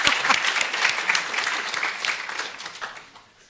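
Steady applause from an audience at a medical bachelor's diploma ceremony, a dense sustained clapping that fades slightly toward the end, with no speech over it.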